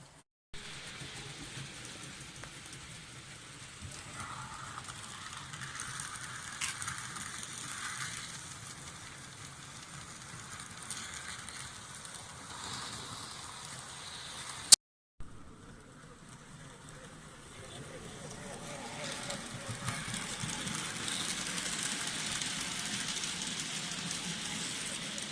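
A model Great Eastern locomotive running on a model railway layout, a continuous mechanical whirr and rolling rattle close to the listener, broken by a brief click and short gap midway, then growing a little louder.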